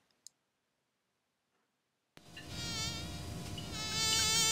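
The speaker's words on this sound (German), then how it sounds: "jetzt kommt die Fliege hier doch gewiss gleich wieder" A fly buzzes in the TKKG video game, starting suddenly after near silence and holding a steady, close, wavering whine that grows slightly louder toward the end.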